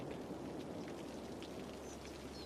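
Rain falls steadily in the Cities Skylines city-building game, a soft, even hiss of drops at low volume with no other sounds.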